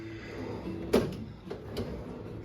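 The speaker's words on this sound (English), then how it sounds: "a really nice full-size chest of drawers. So all these open up" A drawer in a full-size chest of drawers in a Disney Port Orleans French Quarter hotel room slides open with one sharp knock, followed by two fainter taps over low room hum.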